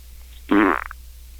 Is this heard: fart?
yes